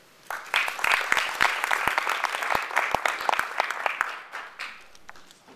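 An audience gives warm applause to welcome Katherine Hamilton to the stage, a dense burst of clapping that swells quickly, holds steady, then thins and fades toward the end.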